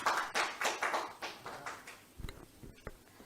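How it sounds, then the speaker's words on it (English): Applause at a product launch, a small group's scattered claps rising in uneven bursts and then thinning into a few isolated, fairly quiet hand claps. "Ladies and gentlemen, please do welcome them with a huge round of applause"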